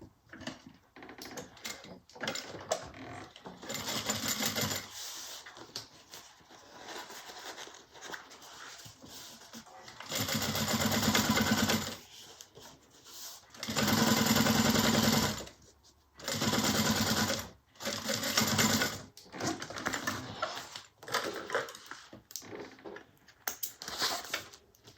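A sewing machine runs in several bursts while topstitching fabric beside a zipper, each run a few seconds of steady whirring with quiet gaps of handling between.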